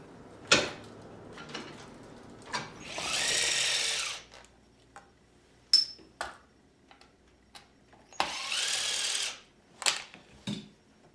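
Power tool removing screws from the skid plates of a Traxxas E Revo 2.0 RC truck: two sustained whirring bursts of drilling, each a second or so long, separated by sharp clicks, taps and handling clatter, close up with no talk.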